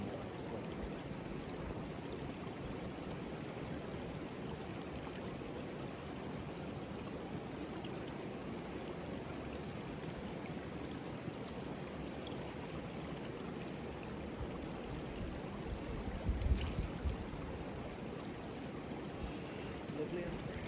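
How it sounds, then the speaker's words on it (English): Running water of a mountain stream on Helvellyn in thick fog, a steady broadband rush close by filling the whole clip, with a brief louder splash near the end. "Probably water running water."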